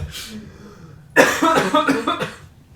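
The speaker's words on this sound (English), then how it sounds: "I feel like every episode I end up coughing" A person coughs in a loud, rough burst of several hacks after a short quiet lead-in, heard close up on a podcast recording.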